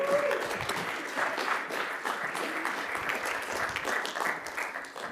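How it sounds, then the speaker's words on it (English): Steady audience applause in a theatre welcoming a musician back onto the stage, continuous and moderately loud for the whole stretch with no talking over it. "Round of applause, Amanda."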